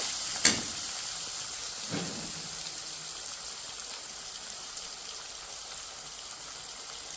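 Ginger and garlic with a little salt sautéing in a pan for country chicken (nattu kozhi) thanni kulambu. A steady, soft sizzling hiss runs throughout, with a couple of brief clatters near the start and no talking.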